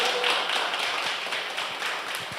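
Audience clapping at a gathering, a dense patter of many hands fairly close, continuous for a few seconds.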